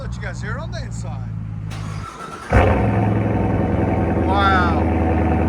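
A Chevrolet C7 Corvette's exhaust, heard from inside the car, rumbles low and steady after a brief dip and sharp restart, with people talking over it.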